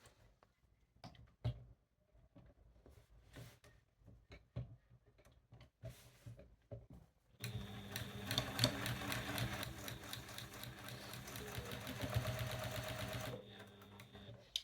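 A domestic sewing machine set to a longer stitch runs steadily for several seconds as it stitches a quilt, a close whirring hum after a stretch of quiet handling clicks and rustles.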